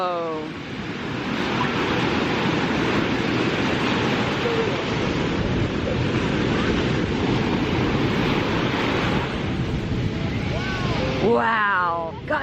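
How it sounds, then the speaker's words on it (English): Big ocean waves at Santa Monica Pier at night make a continuous, loud crashing roar that barely lets up. A voice breaks in near the end. "God, there's some big waves."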